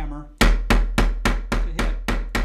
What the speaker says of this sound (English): I'm just going to use a ball peen hammer here. I'm going to hit it with the flat side a few times.